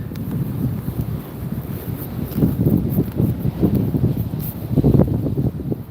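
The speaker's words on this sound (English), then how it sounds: "It is windy" Strong wind on a Florida beach buffeting the microphone, a loud, continuous low rumble that surges in gusts and swells heavier near the middle and end, with no voices.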